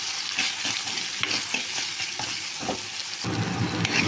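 Onions and tomatoes sauté in hot oil with salt and turmeric, a steady close sizzle broken by the scrape and clatter of a spoon stirring the pan, with no voices.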